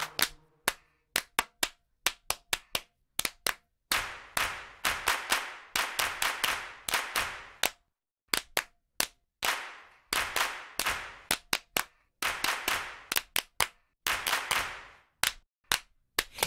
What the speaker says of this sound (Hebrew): כפיים למחוא כמו מיליון, אנשים בקהל אצטדיון